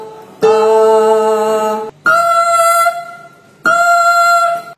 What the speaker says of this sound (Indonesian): contoh dari suara sedangnya wanita atau mezzo-sopran.